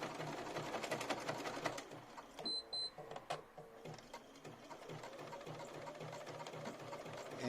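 Domestic sewing machine stitching lace motifs together, a steady rapid mechanical whir running throughout with brief pauses and a few small clicks, moderately close and quiet.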